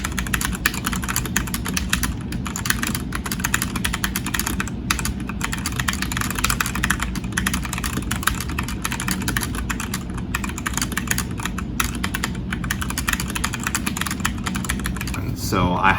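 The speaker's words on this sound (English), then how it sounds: "I've really liked typing with this because of the smooth typing experience" Steady, continuous typing on a budget hot-swappable mechanical keyboard with soft clicking keystrokes, fairly close, with a low background hum throughout.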